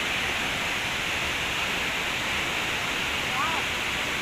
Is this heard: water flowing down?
yes